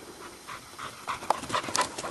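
A dog pants heavily nearby, quick rhythmic breaths growing louder and more rapid over a couple of seconds.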